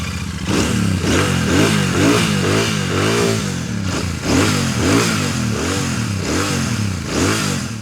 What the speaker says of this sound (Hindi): सुना देते हैं आपको इसका एग्जॉस्ट नोट इस सुपर मीटियोर 650 का